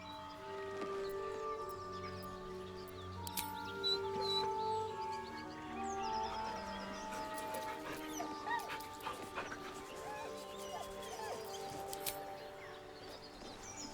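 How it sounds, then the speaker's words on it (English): A dog in Baldur's Gate 3 whimpers and whines softly beside a corpse, with repeated mournful whines over a sustained musical background. "He whines, but remains rooted by the corpse's side."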